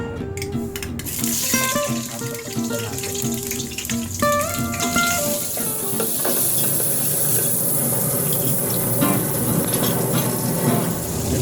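Margarine sizzles in a hot cooking pot, a loud continuous hiss and crackle that builds after a few clinks and scrapes of utensils at the start, with no talk.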